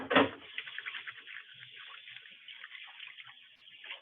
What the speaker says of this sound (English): Just going to give my hands a quick wash